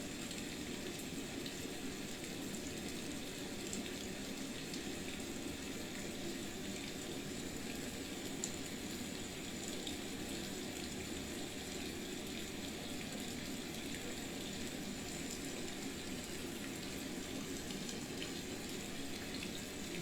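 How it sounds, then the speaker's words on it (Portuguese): Steady falling rain heard as a continuous, even wash of hiss and patter with no breaks. It is fairly faint and there are no voices. "Concentre somente no som da chuva."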